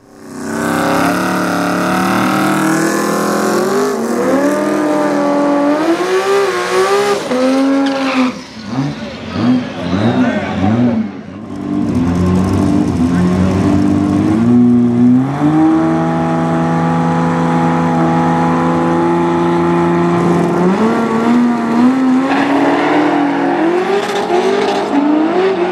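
Corvette Stingray and Supra at a drag race launch: loud engines idle and rev with rising harmonic whines, dip briefly, then roar up hard and sustain at high volume, with voices faintly underneath.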